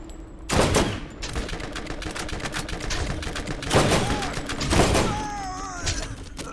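Repeated gunfire in the video game Borderlands, several sharp shots and bursts over continuous battle noise, with a player talking over it.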